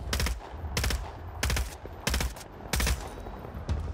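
Gunfire in Vampire: The Masquerade – Bloodhunt: five or six sharp, loud shots at a slow, uneven pace, each a brief crack with a short tail, and no talking.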